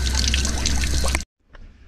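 Water pours steadily into a bucket or tub to store a supply, a loud continuous splashing rush that stops abruptly, followed by a faint, brief trickle.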